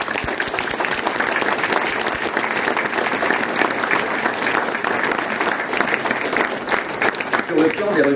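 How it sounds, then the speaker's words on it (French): An audience at a municipal gathering in Chanteloup-en-Brie applauds its town staff with steady, dense clapping. A voice speaks under the clapping near the end. "je voudrais que nous les applaudissions"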